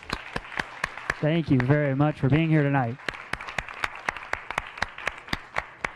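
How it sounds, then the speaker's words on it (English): Audience applause at a science cafe talk on designer microbes fighting pollution, steady clapping throughout, briefly under a speaker's voice thanking the crowd. "Let's give Claudia one more round of applause."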